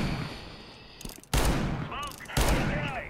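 R8 revolver shots in Counter-Strike: Global Offensive, two loud sharp blasts about a second apart with ringing metallic tails, preceded by quieter game noise.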